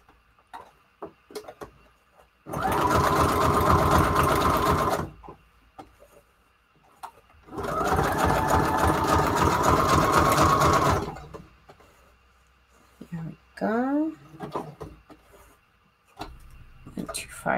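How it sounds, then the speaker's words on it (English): A Brother sewing machine stitching in two long, steady, loud runs of about two and four seconds, with quiet handling noises and a short voice between them, used while making layered junk journal embellishments. "Do you think the Brother sewing machine is the best for this type of stuff?"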